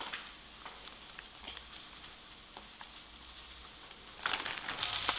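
A burger patty sizzles in a pan as a quiet, continuous crackle, with faint pops scattered through it, then a louder burst of sizzling near the end.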